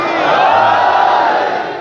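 A large gathering at a Shia religious address roars back a chanted slogan in unison, one loud, sustained collective shout that swells and then tapers off, close and filling the space.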